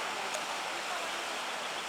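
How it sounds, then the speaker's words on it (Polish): A small river flows steadily past in Krynica-Zdrój, a soft continuous rushing wash of water heard at a moderate distance with no talk over it. "Tutaj płynie sobie rzeka, rzeczka."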